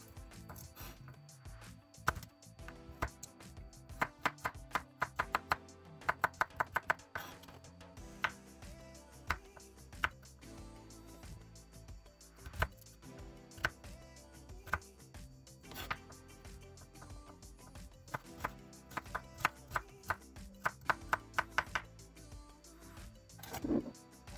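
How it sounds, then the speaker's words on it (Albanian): Two carrots are chopped into small cubes with a knife on a board for a pilaf, giving soft irregular taps and sharper clacks over a faint background hum, with no voices. "do t'i grim në kubik të vegjël."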